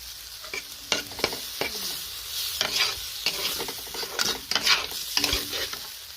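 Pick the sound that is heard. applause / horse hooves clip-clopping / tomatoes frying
tomatoes frying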